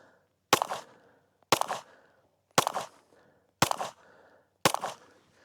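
A carry handgun fires five evenly spaced shots at a small target, each a sharp loud crack followed by a short echoing tail, with brief silence between them.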